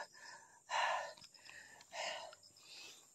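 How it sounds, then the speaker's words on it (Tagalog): A person pants heavily and out of breath in a dark, horror-themed setting, with a few loud gasping breaths separated by quieter, raspy inhales and no talking. "Ayan, hinihingal ako."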